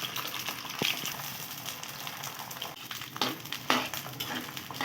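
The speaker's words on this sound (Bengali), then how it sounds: "তেলটা গরম হয়ে গেছে, এখন আমি রসুনগুলো ঢেলে দিচ্ছি" Washed garlic cloves tipped into hot mustard oil for a tomato and naga chili pickle, giving a close, bubbling crackle and hiss with scattered sharp pops and soft stirring clinks, no speech.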